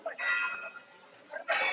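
Church bells ring faintly in the distance in Santa Cruz, Tenerife, Canary Islands, two bright chiming strokes with a softer lull between them.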